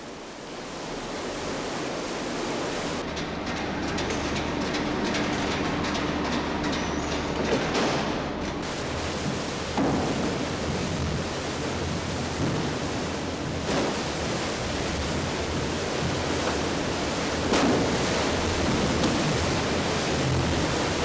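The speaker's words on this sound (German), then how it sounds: "Die Treiberscheibe im Boden wird starke Turbulenzen im Wasser erzeugen." A paper pulper churns water and pulp with its rotor disc in the bottom, producing a steady, dense rushing and swirling roar that holds constant throughout, loud and close with no talk.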